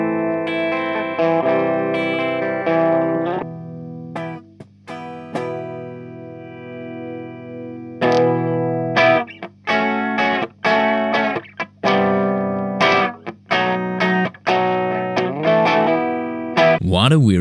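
An electric guitar played through a Lee Jackson GP-1000 preamp with the EQ boosting the input rings out loud and distorted with chorus, alternating sustained chords and choppy bursts separated by short silences, with a final scraping noise.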